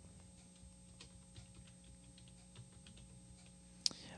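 Light typing on a computer keyboard, soft scattered keystrokes at a steady pace over a faint electrical hum, ending with one sharper click.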